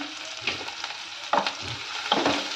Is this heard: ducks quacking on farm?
no